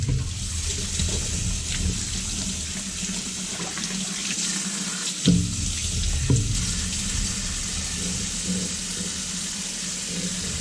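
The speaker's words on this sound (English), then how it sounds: "take out a section of pork, we'll give it a good rinse" Tap water runs steadily into a sink while pork is rinsed under it, with a couple of brief splashes and thumps partway through.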